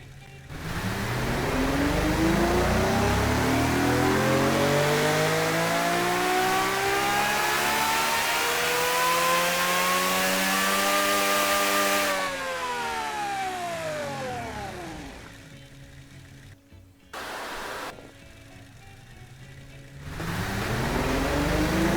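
A 1.1-litre nitromethane-fuelled V12 engine on a dyno in the Automation game revs up in a long rising-and-falling sweep, loud and close. A second, shorter rev follows after a drop to idle, with a brief cut, and it climbs again at the end.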